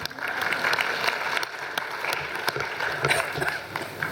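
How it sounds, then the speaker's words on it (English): A conference audience applauds a health innovation panel with steady, moderately loud clapping throughout, a continuous crowd texture with individual claps standing out, and no clear talk over it. "Give them a round of applause, please."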